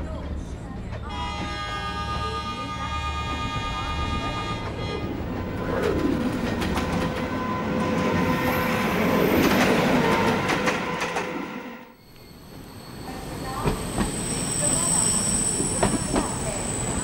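Train pulling into a station at Waltair, a loud rumbling rush with squealing wheel tones and clattering that swells, dips briefly, then resumes with sharper clanks, birds chirping and voices faintly present.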